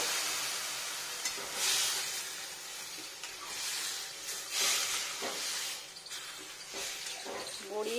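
Mixed vegetables land in hot oil with a broad, loud hiss that swells and eases in waves, a continuous steamy sizzle with a few soft clatters, and no other sound.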